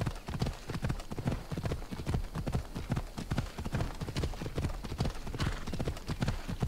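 A horse gallops along while being ridden in the video game Assassin's Creed Odyssey, its hooves drumming a steady, fast, continuous clip-clop rhythm close up throughout.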